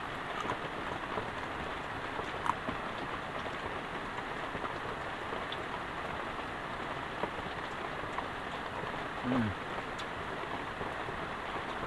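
Heavy rain falls steadily outdoors during cooking of nasi liwet, a constant close hiss of drops on surfaces with faint knocks and brief murmurs of talk.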